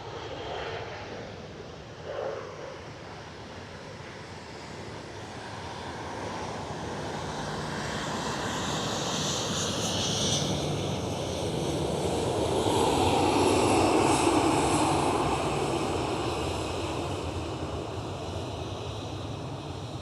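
DHL Airbus A330 freighter jet at Amsterdam Schiphol, a broad roaring engine sound building gradually to a peak past midway and then easing off, heard alone at a moderate distance.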